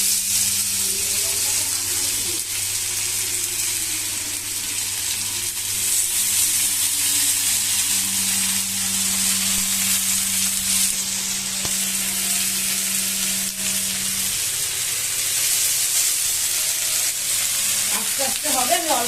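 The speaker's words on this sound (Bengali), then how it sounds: "এবার আস্তে আস্তে এগুলোকে ফ্রাই প্যানে সুন্দর করে ভাজতে বসিয়ে দেবো" Food fries in hot oil in a frying pan, a loud, constant hissing sizzle that holds steady throughout, with a low hum beneath it.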